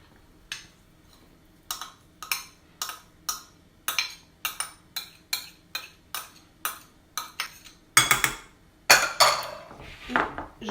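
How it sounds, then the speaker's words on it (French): A spoon clinks repeatedly against a bowl while tuna in natural water is mixed with oil into a filling, a steady run of close, bright taps that turn busier and scraping toward the end, with no talk. "Et je mélange le tout."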